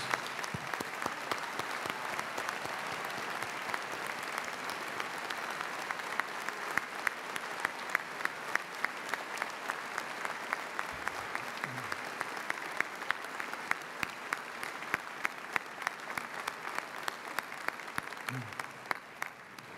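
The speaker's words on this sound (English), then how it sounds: "may we please have a round of applause for all they have done for this, our graduating class" A large graduation ceremony crowd at Villanova University's 2014 commencement applauds the faculty, a long, even roar of clapping from a distant audience, with sharper individual claps popping through and faint murmurs beneath.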